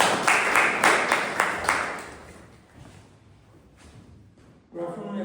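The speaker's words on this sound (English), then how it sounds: "applause." An audience at a Toastmasters club meeting claps in a brief round of applause that swells, then fades away, before a voice begins speaking near the end.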